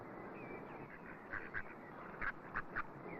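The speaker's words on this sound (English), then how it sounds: "I expect they're in the reeds," Mallard ducks in reeds give a few brief quacks in two small clusters, faint and somewhat distant against a quiet background of outdoor noise.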